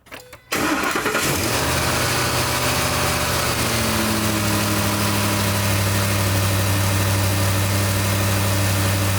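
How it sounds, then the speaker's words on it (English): A truck engine cranks and catches after a short moment during a fuel pressure test, then settles into a loud, steady idle that rumbles on evenly. "let's go ahead and start the engine."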